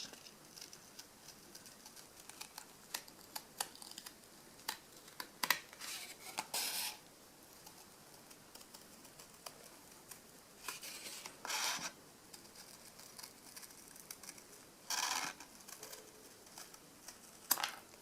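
Scissors snip through paper while a Scandinavian Christmas ornament is cut out roughly, giving quiet, irregular crisp cuts and rustling, close and faint, with no talking.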